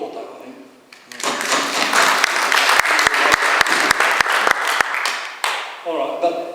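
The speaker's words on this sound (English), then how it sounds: "So you should applaud that, I think." Audience applause at a talk on climate and weather predictions, a loud sustained burst of clapping that rises after a pause, then gives way to someone speaking.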